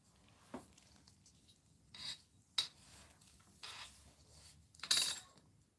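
Edges of a small craft charm being trimmed, heard as several brief rasping scrapes and rubs spaced a second or so apart, close and faint against a quiet background.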